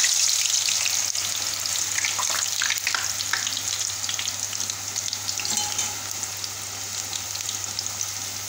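Elephant foot yam chips deep fry in hot oil on a stove over high heat, giving a loud, continuous close-up crackling sizzle with a faint steady hum underneath and no talking.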